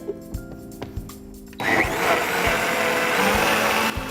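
A blender on high grinds almonds in water for homemade almond milk, kicking in abruptly partway through and then roaring loud and steady, with a few faint knocks before it starts.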